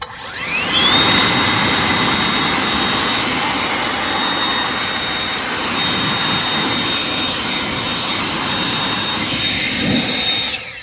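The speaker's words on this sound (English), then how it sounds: "Let's blow downwards to get rid of this dust." Compressed air blasts dust off a Murray push lawnmower with a 6 HP Briggs engine, a loud, steady broadband hiss holding for about ten seconds, close by and with no talking.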